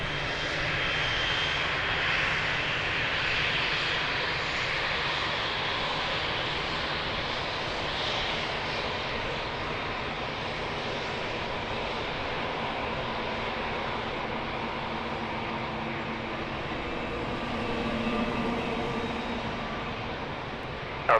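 An airliner lands at Lisbon Airport with a steady, loud engine roar and rushing noise that holds for about twenty seconds and swells slightly near the end, heard from outside the airfield.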